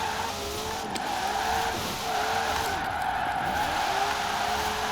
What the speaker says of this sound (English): It's a manageable drift car.